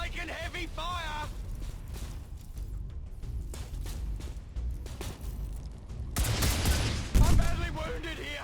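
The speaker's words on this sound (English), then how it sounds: "Taking heavy fire." Heavy gunfire in XCOM 2: Long War of the Chosen, a dense battle mix of shots and explosions with voices calling out over it, swelling to a louder burst of blasts near the end.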